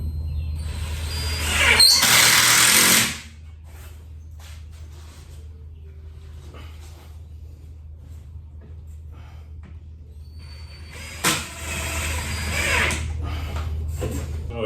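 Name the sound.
power drill driving screws into quarter pipe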